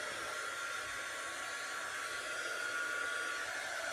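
A hair dryer blows steadily and close at hand, drying wet paint on a Christmas gnome and snowman craft, a continuous even whoosh with no talk.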